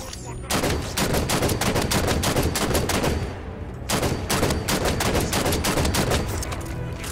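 Rapid bursts of automatic gunfire in the video game Halo 5: Guardians crackle almost nonstop, with a brief lull midway before the shooting resumes, loud and close.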